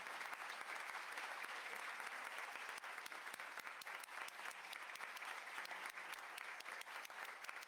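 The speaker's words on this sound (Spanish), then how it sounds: "Un aplauso, por favor." Sustained audience applause from a crowd at a tribute event and book club inauguration, steady and dense clapping throughout with no break.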